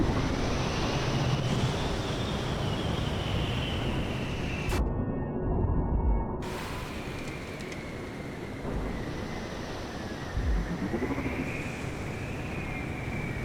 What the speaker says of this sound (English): The size of these waves as well.